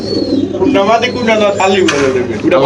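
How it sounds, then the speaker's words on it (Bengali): A red-geared gorra male pigeon coos in steady, repeated rolling calls from close by, with a faint murmur of voices in the background. "এই লাল গিয়ারের গররা নর কবুতর"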